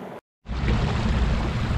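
A sailboat motoring under its engine on the Finistère coast, a steady low drone with water and wind noise, briefly cut out at the start before resuming continuously.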